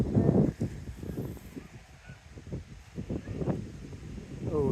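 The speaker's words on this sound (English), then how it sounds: "Yeah, some more geese." Geese honk at a distance over gusty, cold wind noise at Monk Bretton Priory, a scattered series of calls rising and falling.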